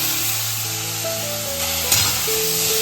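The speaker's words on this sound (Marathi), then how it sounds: "हा सर्व आपण साधारण व्यवस्थित कढईमध्ये घालून घेतोय तेल चांगलं तापलेलं आहे" Continuous crackling sizzle of ingredients frying in hot oil in a kadhai on a wood-fired stove, close and steady, with a soft stirring clink near the end.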